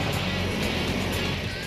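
A scrap-built snow-shifting machine with a slightly compromised screw churns and throws snow, its engine giving a steady, loud broadband roar with no break.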